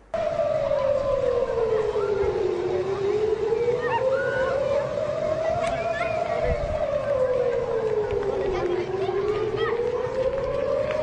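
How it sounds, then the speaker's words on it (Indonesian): A loud wailing air raid warning siren, sounded during an incoming missile attack, rises and falls slowly and continuously, with a faint murmur of voices underneath. "bunyi sirene yang terus terdengar membuat warga panik"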